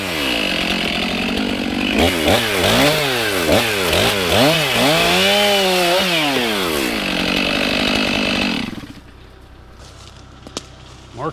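A chainsaw cuts into a hazardous tree, revving loud and close with rising and falling pitch, then cuts off near the end, leaving quieter background.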